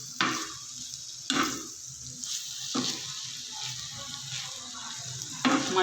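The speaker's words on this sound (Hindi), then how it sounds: "अच्छे तरीके से मिक्स करेंगे।" Keema being stirred with green chili and garam masala on a hot tawa, a continuous sizzle broken by several sharp scraping strokes of the spatula against the pan.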